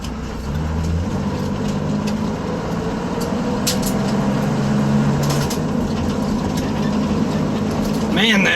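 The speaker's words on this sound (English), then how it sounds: "Man, that engine sounds good though." A steady, rumbling 1965 Corvair 500 engine idles close by for several seconds, a low continuous drone with faint background noise.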